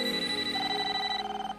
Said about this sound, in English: Your toaster's ringing.